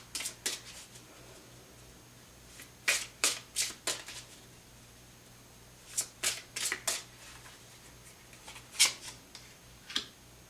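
Tarot cards shuffled by hand in several quick crisp bursts of riffling and slapping, close and fairly quiet, with pauses between bursts and no talking.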